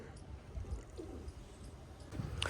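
A large female pigeon coos softly at a distance, a few low, faint murmurs over quiet background noise.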